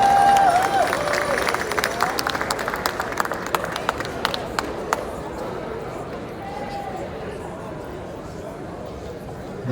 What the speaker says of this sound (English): Give a round of applause, y'all.